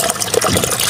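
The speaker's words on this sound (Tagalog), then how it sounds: "buksan natin yung drain plug para drain natin yung tubig" Water gushes out of a tank through an opened drain plug in a steady, loud splashing stream, close up, lasting about a second.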